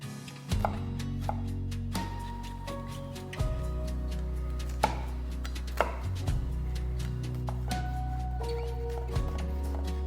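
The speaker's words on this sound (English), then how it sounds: "Two pieces of garlic, finely chopped." A knife chopping garlic finely on a cutting board, with rapid, even taps that repeat close and clear for ten seconds with no voices over them.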